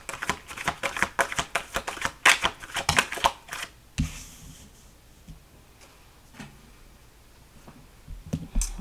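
Rapid riffling clicks of tarot cards being shuffled for several seconds, then quieter handling and occasional soft taps.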